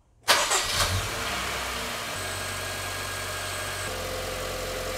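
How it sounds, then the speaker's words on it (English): A Honda Civic engine cranks and catches with a sharp start, then settles into a steady, even idle hum that runs on without any talking. "Now I'm gonna start the engine and you will see what the values should be when the engine is on"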